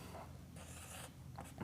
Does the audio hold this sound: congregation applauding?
no